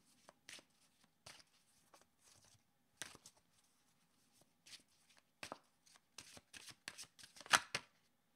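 Tarot cards are shuffled by hand in quick, crisp riffling bursts with short pauses between, close and quiet in an otherwise still room.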